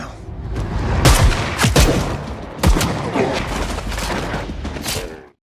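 Film-scene gunfight with a sudden exchange of gunfire, loud overlapping shots and booming blasts over a few seconds, dense and close, ending abruptly.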